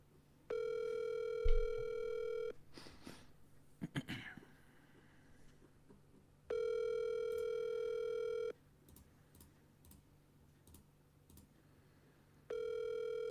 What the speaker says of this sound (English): Are you calling Bryce Mitchell?